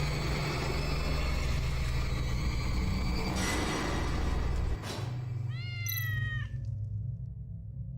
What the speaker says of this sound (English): Hello, demonic cat.